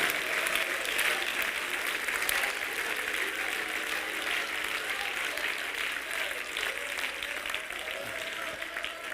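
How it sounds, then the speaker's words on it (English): A large church congregation claps continuously and loudly, dense rapid applause that keeps a steady level throughout. "Clap your hands to the Lord right now"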